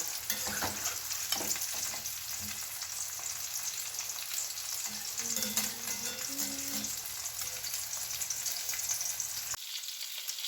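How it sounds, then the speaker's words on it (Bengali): Pitha rice cakes frying in hot oil give a steady, close sizzle, with soft scrapes and clicks from turning them in the pan, until the sound cuts off near the end. "অল্প করে করেই ভাজবো।"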